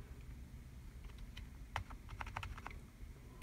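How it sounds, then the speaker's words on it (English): Keys on a budget desktop keyboard are pressed to change LED light brightness, a scattered run of light, crisp clicks close by over a quiet background, with a few quick taps clustered together. "You can also adjust the brightness with function keys."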